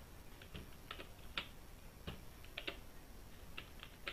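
Someone typing on a computer keyboard while creating an ID card in MS Word, a scattered run of light key clicks, some in quick clusters, heard up close against a soft background hiss.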